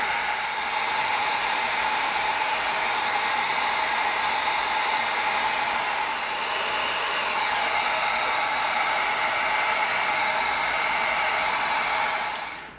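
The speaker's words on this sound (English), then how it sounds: "Now let's get our heat gun out. It's gonna tighten up the foam real nice." A heat gun blows steadily on EVA foam, a loud, continuous airy roar held for about twelve seconds before cutting off, with no voices over it.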